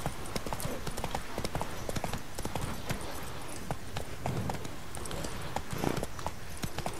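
Horse hooves gallop steadily in The Witcher 3, a continuous rapid clip-clop over a dense game soundscape with no pauses.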